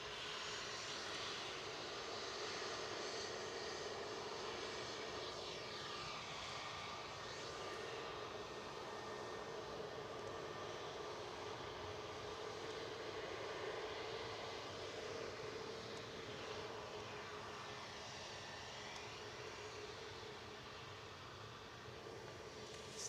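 EasyJet Airbus A320neo jet at Manchester Airport, a continuous broad engine roar at moderate distance that swells and fades slightly over twenty seconds in the open early-morning air.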